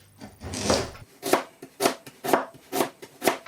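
Knife slicing through parsnips on a chopping board, about six crisp, evenly spaced cuts after an initial scrape, close and clear with no talking.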